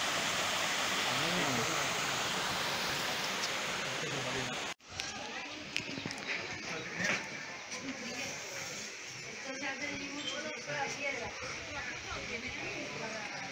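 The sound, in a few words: waterfall where the river drops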